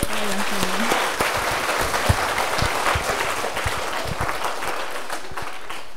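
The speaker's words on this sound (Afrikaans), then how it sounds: "kom ons gee vir Kayla 'n lekker hande klap, julle." A crowd claps steadily for several seconds, dense and fairly close, with a voice briefly audible at the start.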